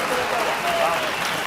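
Crowd applause at a men's curling match at the 2013 European Championships, Norway versus Switzerland: a steady, dense wash of clapping that holds at an even level throughout, with a faint voice underneath.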